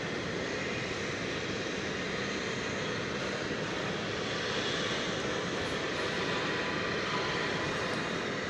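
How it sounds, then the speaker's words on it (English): A Delta Airbus A320 airliner at DFW Airport gives off a steady, broad engine roar at moderate distance, holding constant without pause. "There is Delta Flight 724. It's an Airbus A320, which means we may get a Wookiee roar here"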